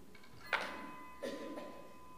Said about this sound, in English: Oh, the bell rings.